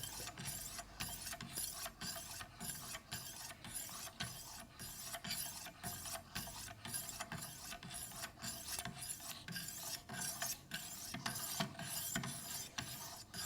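Knife sharpened on Wicked Edge 600-grit stones, steady rhythmic scraping strokes repeating roughly every half second, close and continuous with no talking.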